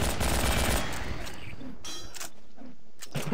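Garry's Mod zombie survival gunfire, a dense rapid burst of shots at first that thins into scattered cracks, loud and close amid game noise.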